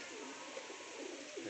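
Pigeons coo softly and repeatedly at low volume, a gentle, steady murmur of calls with no voices present.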